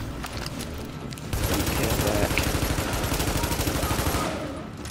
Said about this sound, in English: Get up and shoot.